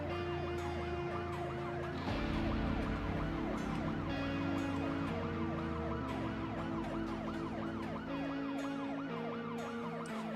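A siren wails in Project Zomboid, rising and falling in a loud, continuous loop that fills the whole stretch with no pause.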